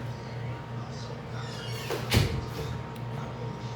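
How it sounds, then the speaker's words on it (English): A bedroom door shut indoors, giving one soft thud midway through against a steady low hum, with no one talking. "Shut my door."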